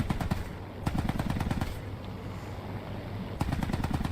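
Aircraft wing cannons firing in the War Thunder combat flight game, heard as three rapid bursts of loud automatic fire, with brief pauses between them and no voices.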